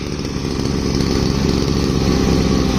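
A motorized machine on a cardamom plantation runs loudly and steadily up close, a raspy small-engine drone with no pauses and no voices.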